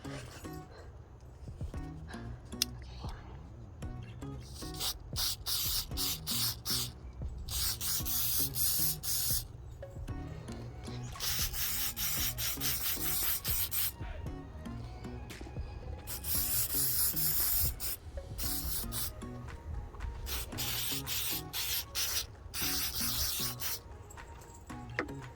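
Aerosol spray paint laying a glossy coat onto a 3D printed Funko figure, hissing in several long, loud bursts with short pauses between them.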